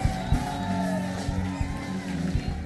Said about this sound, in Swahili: Patia Yesu shangwe na vigelegele siku ya leo.